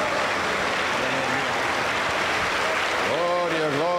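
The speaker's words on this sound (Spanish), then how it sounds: "La iglesia le recibe con fuerte aplauso para Jesús" A church congregation at a Pentecostal service in Junín, Peru, bursts into loud, dense applause for a pastor; near the end a voice rises over the clapping.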